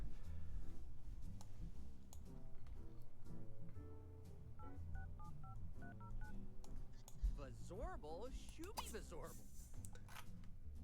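A rapid run of electronic phone dialing tones beeps over game music and background voices, followed by warbling sound effects.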